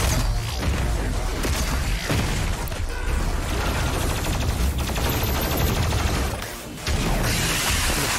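Rapid weapon fire from the plasma rifle in the shooter game DOOM Eternal roars continuously and loudly, with dense crackling bursts, heavy low rumble and mechanical clatter that barely lets up, no voices.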